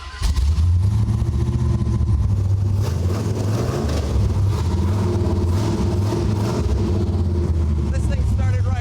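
A low-buck Vortec V8 swapped into a Camaro runs with a deep, loud, steady rumble and rises in repeated revs, while someone talks over the engine throughout.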